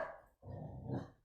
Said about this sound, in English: Sorry, my dog's participating.